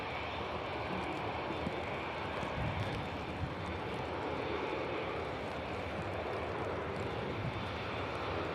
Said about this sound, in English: Turkish Airlines on the roll.